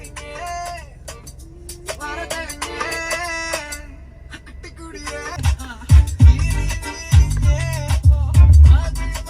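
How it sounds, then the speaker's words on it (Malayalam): Music plays through a Portronics v5.0 car Bluetooth device inside a car, harmonic melody with a building low-end thump in the second half, loud and steady with no talking. "നമ്മൾ പാട്ട് വെച്ചിട്ടുണ്ട് കേട്ടോ"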